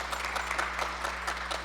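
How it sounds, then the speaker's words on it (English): Audience applause at a performing arts center event, a steady wash of clapping from a crowd held at an even level for the whole short stretch, with no voices over it. "Give them a round of applause,"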